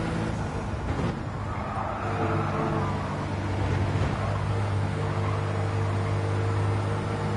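A racing car in a racing video game runs a flying lap, its engine a steady sustained drone with a continuous hum throughout, evenly loud with no break.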